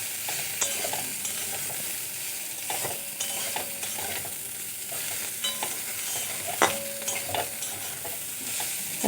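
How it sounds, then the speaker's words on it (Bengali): Neem leaves and eggplant frying together in a pan give a steady, close sizzle of hot oil, broken by the scrape and clack of a spatula as the mixture is stirred now and then. "আর কিছুক্ষণ নাড়াচাড়া করে নেব"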